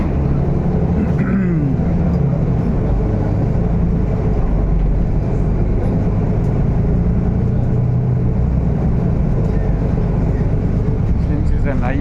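A city bus on the streets of Buenos Aires rumbles on with a constant loud low engine drone and road noise, heard from inside the cabin.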